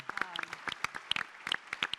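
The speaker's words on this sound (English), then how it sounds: "can we just applaud all of the staff members who are here in the room today?" Audience in a room at a Capitol Hill leadership forum applauding staff members, a short burst of scattered, fairly sparse hand claps from a small group, moderately close.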